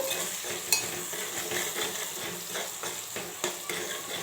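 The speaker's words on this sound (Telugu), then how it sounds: "ఇప్పుడు ఒకసారి కలిపేసుకుందాము" Potato curry seasoned with turmeric, chili powder and salt is stirred in a frying pan, giving a steady sizzle with soft, repeated scraping strokes and an occasional sharp utensil clink.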